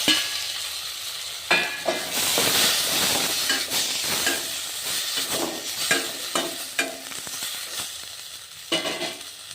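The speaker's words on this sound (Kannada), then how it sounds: "ಹಾಗೆ ಟೊಮೆಟೊನು ಹಾಕಿ ಫ್ರೈ ಮಾಡೋಣ." Tomatoes and green chillies sizzle and hiss in a hot pan, with bursts of stirring and scraping scattered throughout, close and fairly loud.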